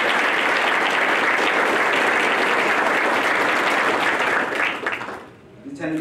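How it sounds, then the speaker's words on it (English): At a military retirement ceremony for an Army lieutenant colonel, a large audience applauds steadily and loudly after the national anthem. The applause tapers off near the end, then a voice briefly comes in. "Please join me in giving her a round of applause."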